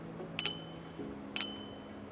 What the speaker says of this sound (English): I am ringing the bell.